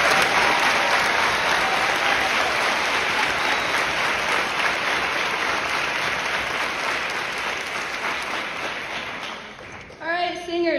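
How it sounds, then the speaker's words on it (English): Theatre audience applauding after a musical performance, loud dense clapping sustained for about ten seconds before tapering off, with a brief voice and tonal sound at the very end. "I can't believe you forgot to give a round of applause for Miss Beauchamp, Mrs. Gilbert, Mr. Bellam"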